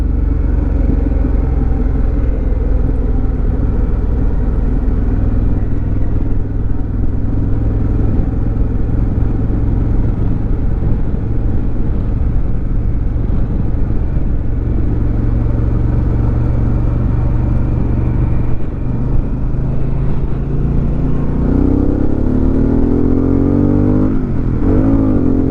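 A Harley-Davidson Pan America motorcycle accelerating at highway speed, its engine droning loud and close under constant rushing wind, with the pitch climbing steadily toward the end as it pulls harder.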